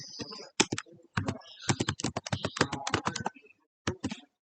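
Keys on a computer keyboard are tapped in quick, irregular runs of close, crisp clicks, with a short pause before a final few strokes.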